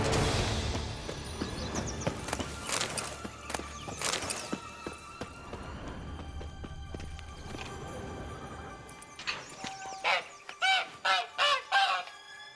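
A caged egg-laying hen clucks in The Witcher 3, a run of short, loud, evenly spaced squawks near the end after a busy stretch of clattering game sounds.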